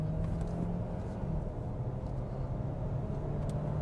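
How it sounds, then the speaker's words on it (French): Kia Sportage plug-in hybrid 4x4 of 265 hp accelerating and downshifting, heard from inside as a steady low engine and road drone with faint shifting pitch lines, continuous and moderately loud without talk. "Je vais réaccélérer. Je vais même essayer de rétrograder pour forcer un peu le trait."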